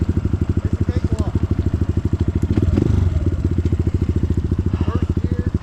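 An enduro motorcycle engine chugs in a steady, rapid throb close by while climbing a wet hill, with a brief swell of throttle midway and a voice talking over it.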